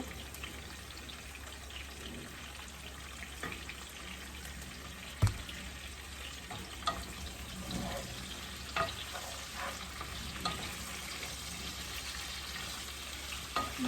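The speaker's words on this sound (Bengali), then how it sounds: "একটু হলুদ গুঁড়া দেওয়া আর একটু লবণ দেব এটা একটু ভাজা ভাজা করে নেব" Sliced bitter gourd fries in a pan with turmeric and salt, giving a steady soft crackle with occasional stirring clicks and one sharp knock.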